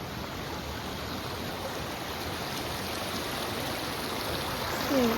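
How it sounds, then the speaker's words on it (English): Steady rushing and babbling of a flowing creek along a hiking trail near Ramona Falls, continuous broadband water noise close by, with a brief faint bump near the end. "Walking down the trail and got this really pretty stream"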